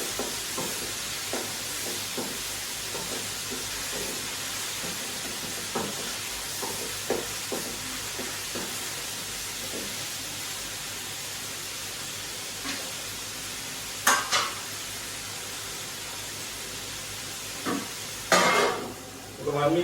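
Curry leaves frying in a pot of vegetarian pulusu, a soft steady sizzle with intermittent stirring scrapes and a few sharper clanks of a utensil against the pot near the end.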